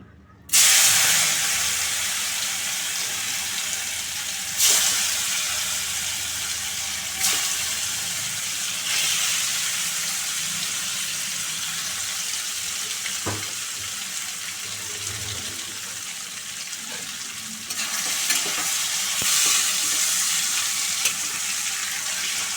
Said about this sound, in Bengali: তেলটা গরম হয়ে গেছে এবার পনিরগুলো একটু ভেজে নেবো